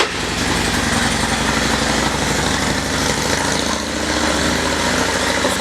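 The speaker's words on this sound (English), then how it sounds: "Sounds great." A 2015 Indian Chief Vintage motorcycle engine idles with a steady, loud, close rumble, unbroken and without voices.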